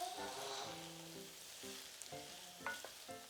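Yellowtail and vegetables sizzle in oil in a pan for a vinegared yellowtail dish, a short, close frying crackle broken by a few stirring shifts.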